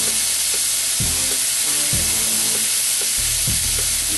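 Diced steak picado with steak seasoning and garlic sizzling in a pan over medium heat, a steady loud fry hiss with a few low thuds from stirring.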